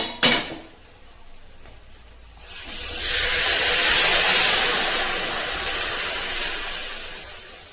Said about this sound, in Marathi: गरम केलेले पाणी टाकूया